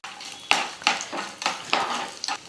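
Cashews and raisins fry in ghee in a pan for payasam, a close steady sizzle with several distinct scraping stirs of a spoon against the metal.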